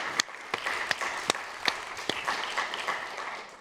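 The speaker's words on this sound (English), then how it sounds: "let's give them a round of applause" A conference audience at a closing session gives a round of applause, with dense, moderately distant clapping broken by a few sharper individual claps, steady throughout.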